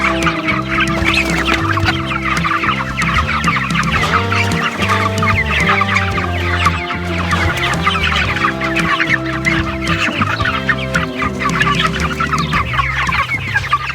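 A flock of chickens clucks busily and continuously while mobbing fresh feed, many birds at once, close by and loud, with no talking.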